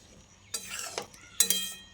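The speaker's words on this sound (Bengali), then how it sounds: "জলটা দিয়ে ভালো করে নেড়েচেড়ে মিশিয়ে নিচ্ছি" Moong dal and potatoes stirred with added water in a pot, two short bursts of spoon scraping and clinking against the vessel, close and moderately loud, separated by a brief quiet gap.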